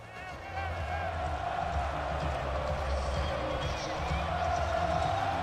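A college football video game stadium crowd roars as a dense, continuous wash of cheering. It holds steady at a moderate level with a low rumble beneath, rising slightly toward the end.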